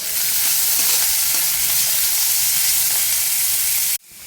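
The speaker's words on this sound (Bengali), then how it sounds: "আমি কড়াইতে অল্প একটু তেল দিয়ে নিয়েছি, এরপরে ওর মধ্যে পেঁয়াজ আর গাজরটা দিয়ে সামান্য একটু ভেজে নেব।" Onion and carrot frying in a little oil in a wok, a strong, continuous hiss of sizzling that holds steady and then cuts off abruptly near the end, with no voices.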